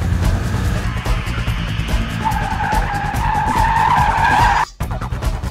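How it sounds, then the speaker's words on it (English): A 2008 Mitsubishi Lancer Evolution X with the automatic gearbox launches from a standstill, its engine revving hard as the tires squeal loudly and steadily before a brief sudden cutoff near the end. "This should be a better takeoff than my last run."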